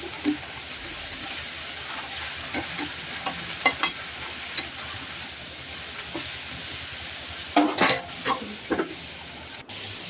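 Bottle gourd with salt and turmeric sizzles softly in a pan while a spatula stirs it, with scattered scraping strokes and a cluster of louder clanks near the end.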